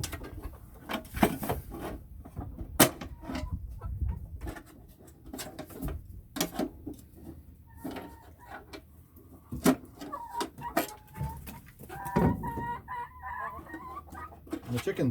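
Chickens cluck and squawk close by inside a coop, with scattered short calls and bursts of fluttering and rustling throughout, and no talking.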